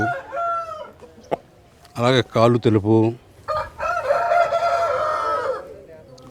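A four-kilogram country chicken rooster on a farm crows loudly and close by, a sharp broken call following a brief cluck, then a longer drawn-out crow, with someone speaking in between.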